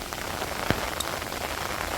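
Steady rain falls during a tropical storm at night, a dense even hiss of drops with a faint knock or two and no voices.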